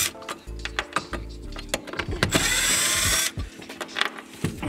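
Power drill or impact driver backing out two bolts on a Nissan 240sx: several short bursts of whirring and clattering, then a sustained high-pitched spin lasting about a second, all close and moderately loud with no speech.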